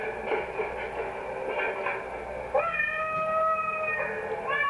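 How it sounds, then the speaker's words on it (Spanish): A domestic female cat meows twice in drawn-out, tonal cries, the second rising and wavering, over a faint background murmur. "el maullido de mi gata"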